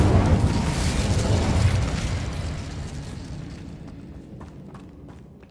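A burst of magical fire from the Incendio spell in Hogwarts Legacy, a loud rumbling whoosh that roars at first and gradually dies away over several seconds.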